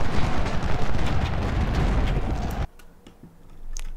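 Civil War cannon artillery in Ultimate General: Civil War during the Siege of Jackson, a loud, dense roar of firing that cuts off abruptly, leaving a quieter rumble.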